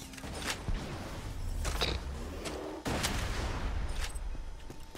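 Grenade blasts and gunfire in the shooter Borderlands 2, several sharp bursts going off in quick succession with crackling debris and mechanical clatter between them, loud and close.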